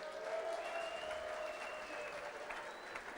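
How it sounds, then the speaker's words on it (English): Applause from an audience of industry leaders at a formal evening address, sustained clapping heard at a distance with faint voices mixed in. "let's hear a big round of applause if you did"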